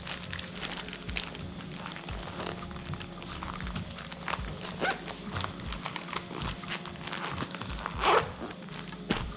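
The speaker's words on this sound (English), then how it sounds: "kind of smash it down and zip it up" A heavy-duty fishing bait bag is zipped closed in several quick, rasping zipper pulls, close and fairly loud, with a few soft handling rustles between strokes.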